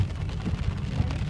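Very fine hail, almost like snow, falling in a Sydney suburb, a steady dense hiss of tiny pellets patter with a low rumble underneath, continuous and fairly loud with no voices.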